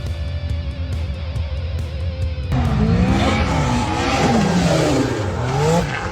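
Race car at speed, a steady engine drone that gives way at about two and a half seconds to louder, rougher noise with swooping tire squeal and skidding as it loses control and crashes.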